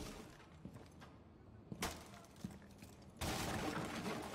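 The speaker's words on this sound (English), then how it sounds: "Flashbang." Flashbang grenade detonating in the tactical shooter Rainbow Six Siege during a Terrorist Hunt match on a Brazil map: a sharp bang followed by a loud, sustained bright hiss, preceded by scattered thumps and faint game sounds.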